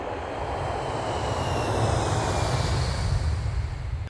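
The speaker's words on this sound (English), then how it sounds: "So I hop on a plane and fly out to the Pacific." A fixed-wing airplane engine roars steadily as a sound effect in an audiobook, a loud, continuous broadband drone that swells slightly in the middle and holds with no talk over it.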